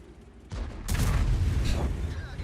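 A Grille 15 tank destroyer in World of Tanks fires a heavy blind shot: a sudden deep boom with a rumbling tail, loud and close, rising out of quieter battle ambience.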